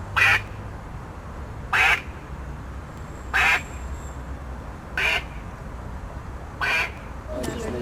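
Ducks and geese on a pond in Ljubljana's Tivoli park, with five evenly spaced quacks standing clear above a steady low outdoor rumble and some background voices.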